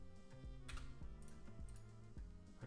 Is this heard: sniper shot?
no